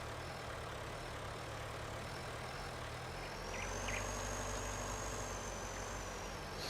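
A tractor engine drones at steady idle-like load during field work in a farming survival video game, a low continuous rumble that swells slightly partway through, with no talk over it.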